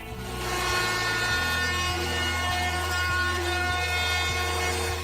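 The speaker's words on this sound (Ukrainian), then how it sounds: "Після висихання клею я заокруглив усі деталі за допомогою фрезера" Wood router rounding the edges of wooden ladder parts, a steady loud high-pitched whine with the cutter's tone shifting as it moves along the timber, continuous throughout.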